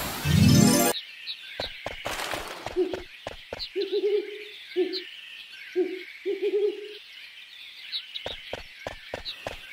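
Owls in the Final Fantasy IX forest near the Black Mage Village giving a series of low, repeated hoots in short groups, mid-distance under game music and footstep clicks, following a loud sweeping sound effect at the start.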